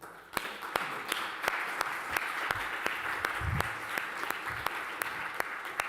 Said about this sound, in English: give this panel here a round of applause